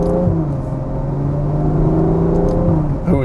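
A Ferrari GTC4Lusso engine revving while driving, a close, steady throaty drone with a tone that rises and holds through the stretch, ending with a short shift in pitch.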